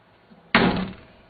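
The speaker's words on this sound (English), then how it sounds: "I shouldn't have slammed it. This door is so sweet." A solid, rust-free Acadian's car door slams shut once, a sharp, loud close-range thud followed by a short fading rattle, with no talk.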